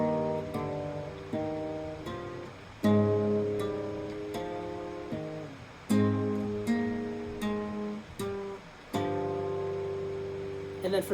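Acoustic guitar plays an outro as a series of plucked open-string chords, each left to ring and fade before the next is struck, clear and close with no talking.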